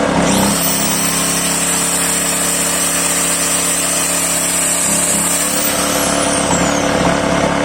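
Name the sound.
1.1 kW angle grinder running on Voin DV 1500i inverter generator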